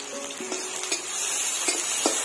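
Chopped onions fry in hot mustard oil with bay leaf and a dried red chilli for a fish-head kalai dal. A steady, soft sizzle carries a few light stirring clicks and taps, with no voices.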